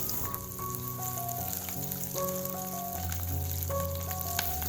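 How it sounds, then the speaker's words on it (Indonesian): Onion sautés in cooking oil in a hot pan with a steady, even sizzle that stays constant throughout, while soft background music plays underneath. "Lalu kita tumis bawang bombay dulu sebentar saja."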